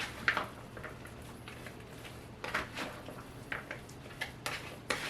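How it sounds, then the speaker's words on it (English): A spoon stirs sourdough bread stuffing moistened with a cup of broth in a pot, giving scattered scrapes and clinks against the pot sides at an irregular pace, close by with no talking. "Give it a stir."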